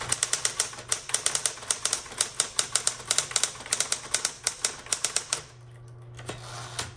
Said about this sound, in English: let's go ahead and keep typing